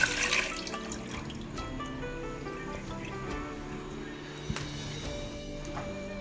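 First coconut milk pours into a cooking pot of Kerala-style chicken, a continuous close liquid splash and trickle with a brief clink partway through, and no talking.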